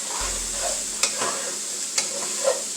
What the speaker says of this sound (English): And we're going to stir that around